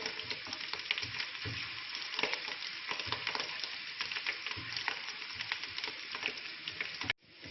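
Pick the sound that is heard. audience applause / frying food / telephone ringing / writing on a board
frying food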